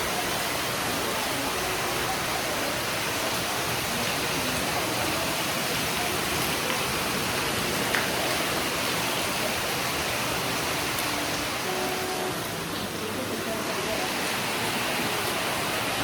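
Steady rain falls outdoors during a windy evening, a continuous dense hiss with no breaks, moderately loud and constant throughout.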